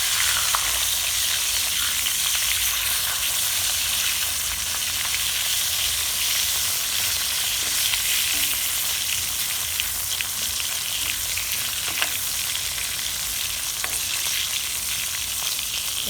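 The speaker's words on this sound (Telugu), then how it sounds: "ఎర్రగా వేయించుకోవాలి." Salted fish, a low-salt kind, frying in a pan with a steady, dense sizzle that continues unbroken and close throughout, with no talking.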